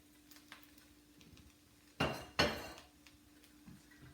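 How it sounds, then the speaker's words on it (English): A spatula stirs garlic, mushrooms and vegetables in a stir-fry pan for a veggie peanut Asian stir fry, giving two loud metallic scrapes close together and a few lighter clinks around them, with no talking. "We'll give this a quick stir."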